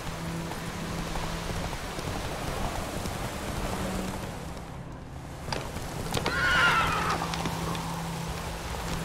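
Roach the horse in The Witcher video game, with hoof clip-clops, a whinny and a steady rain-like hiss running throughout; no voices.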